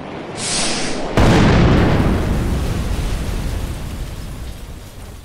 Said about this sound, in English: Did you just blow up the tank with its own missiles?